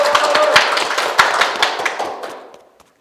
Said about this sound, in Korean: 자, 이제 큰 박수로